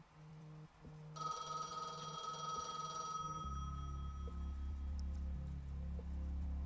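A telephone rings in a gas station video game, a steady electronic bell tone over a low engine-like hum, with no talking.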